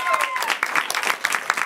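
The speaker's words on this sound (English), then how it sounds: "Clap for Johnny." A studio audience applauds for Johnny at a live show. The clapping is loud and dense for under two seconds, with a voice talking over it.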